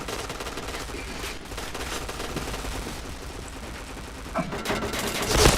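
Gunfire in a shooting video game: rapid automatic bursts and scattered single shots crackle through a busy noisy mix, growing louder toward the end.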